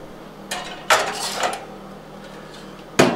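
A baking pan of breakfast bars is slid into an oven, with a few metallic clunks and rattles of pan and oven rack, one at the start, a louder pair near the middle and a final clank at the end.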